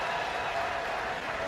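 Applause from a crowd at a Young Africans (Yanga) club event, greeting Dar es Salaam regional commissioner Albert Chalamila as he receives his membership card; dense, steady clapping fills the short moment at a fairly loud, even level.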